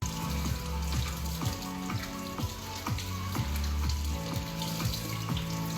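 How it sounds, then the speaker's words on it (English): Vegetables being washed in a sink of water with vinegar: running tap water and rhythmic splashing and sloshing as the produce is rubbed and turned, close and moderately quiet. "I'm gonna place them in here, and I'm gonna clean them really good. I use vinegar."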